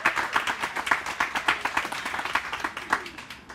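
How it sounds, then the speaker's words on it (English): A small audience at a Founders Day brunch gives a round of applause, a close, lively burst of individual claps with distinct rhythmic peaks that thins slightly toward the end. "let's give a round of applause to Jim."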